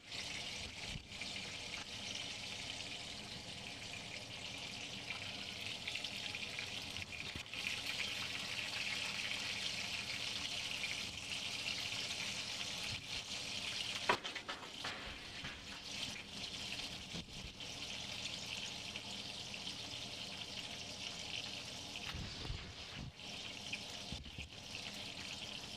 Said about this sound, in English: gonna strain the water off of my mashed potatoes.